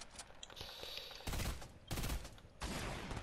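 Loud, close bursts of rapid gunfire in a video game box fight, with several dense volleys coming in quick succession.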